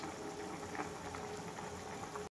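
A pot of rice and a fish curry with potatoes boiling on a stove, with a steady, continuous bubbling that runs alone and stops abruptly.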